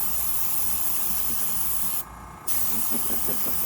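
An aerosol can sprays paint onto a Christmas bauble in a loud, steady hiss that cuts out for about half a second and then starts again. Faint knocks can be heard near the end.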